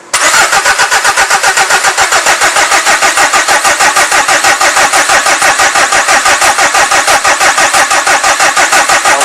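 A diesel engine cranking on its starter during a common rail fuel pressure test, a loud, rapid, even rhythmic chugging that runs steadily throughout without catching.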